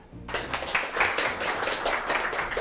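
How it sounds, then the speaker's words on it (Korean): Audience applause welcomes a speaker onto a Korean lecture show, starting abruptly and continuing as a moderately loud, steady round of clapping from a mid-sized crowd. "큰 박수로 모셔볼게요"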